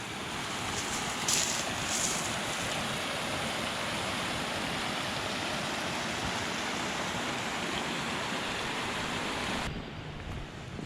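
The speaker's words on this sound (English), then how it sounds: "Oh, the sound of the running water coupled with the sun and the bird song." A river on Dartmoor rushes along steadily and forcefully, a loud, continuous broadband roar of running water that holds for about ten seconds, then dips slightly near the end.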